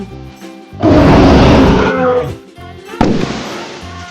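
A lion gives a deep, loud roar that swells up, fades, then a second rough roar follows abruptly, heard near and alone over a soft musical background.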